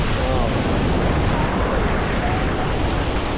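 Ocean waves at a beach where children are swimming: a loud, continuous roar of surf with heavy wind rumble on the microphone, steady throughout and no clear talk.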